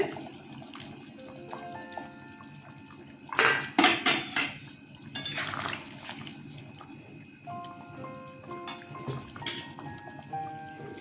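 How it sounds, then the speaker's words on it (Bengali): Prawns drop into a simmering potol curry gravy with close splashy clatters and wet stirring, then softer bubbling and utensil scrapes, over a faint steady tonal background. "ঝোলটা ফুটে গেছে মাছগুলো ছেড়ে দিচ্ছে"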